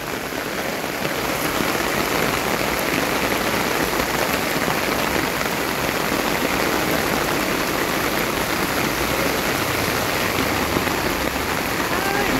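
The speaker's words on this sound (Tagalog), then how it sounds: "Grabe ulan." Heavy tropical downpour pounds surfaces in a dense, unbroken roar of rain, loud and close, continuing evenly throughout with no voices over it.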